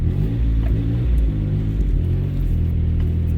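Subaru Justy engine droning steadily while driving, a loud low rumble with slight revving swells throughout, close up from inside the car, no talking.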